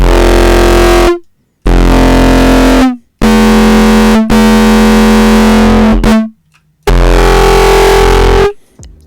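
Loud, heavily distorted synth blasts like a foghorn, five long sustained notes separated by short silences, the pitch shifting slightly between them.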